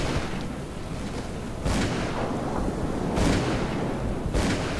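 Gunfire in the video game Call of Cthulhu: a few deep booming shots at irregular intervals, each a broad burst rising from a thick, continuous low rumble.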